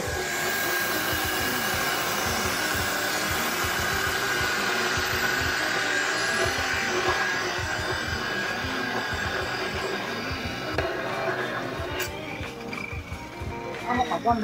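A grinder cuts into a steel skate rail bought from a junkshop, giving a continuous loud whining, rasping drone with steady texture throughout, while a person talks over it.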